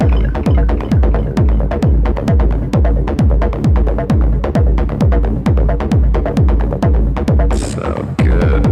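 A Roland TB-303 synthesizer plays a loud, steady bassline of rapid, evenly pulsing notes with a throbbing, resonant character, running continuously with a brief bright swell near the end.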